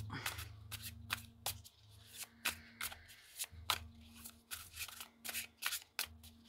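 Tarot cards being shuffled by hand in a riffle-like pattern, crisp repeated flutters and snaps close to the listener, with a steady low hum beneath and no talking.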